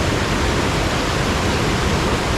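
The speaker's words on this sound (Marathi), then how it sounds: "एवढं पाणी कमी आहे ना तरी पण झोत बघा केवढी मोठी" Water from a breached village pond in the rain rushes out in a steady, loud broadband roar, continuous and close with no break.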